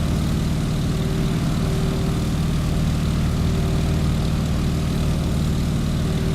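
A Stearman biplane's propeller engine climbing in the video game Microsoft Flight gives a steady, loud, low droning roar with a constant pitch throughout, close and uninterrupted.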